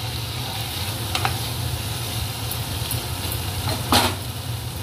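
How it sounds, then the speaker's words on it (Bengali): Fish curry with added water sizzling and frying in a pan while being stirred, a steady close crackle and hiss with occasional scrapes and clinks of the spoon, no talk. "এটা এখন ভালো করে নাড়াচাড়া করা হবে, ভালো করে কষানো হবে। একটু জল দিয়ে দেওয়া হলো।"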